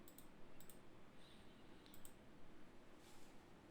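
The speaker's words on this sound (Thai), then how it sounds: "กดคลิกเข้าไปเลย" A computer mouse clicks a few times on a Windows 11 machine, producing crisp, close, isolated clicks over a steady room hiss.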